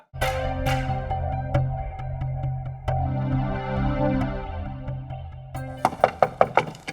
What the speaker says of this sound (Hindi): खटखट हो रही, कोई आया है तो खोल।